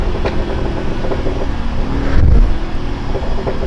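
Chiptuned Mercedes AMG GT 43 with turbo, tuned to 470 PS, accelerating nearby: a loud continuous engine drone that swells to a heavy low surge midway, then settles back, with no voices.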